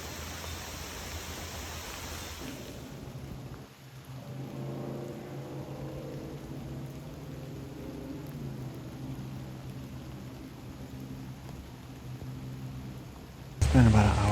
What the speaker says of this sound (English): It's been raining nonstop. It got really heavy for a few minutes.